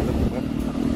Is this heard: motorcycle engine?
yes